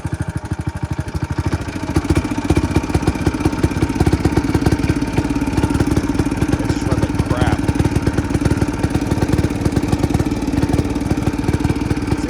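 A rare 1970s Commuter three-wheeler's small engine running near and loud, a steady rapid chugging putter with clattery idle that holds for several seconds, with a voice speaking briefly over it.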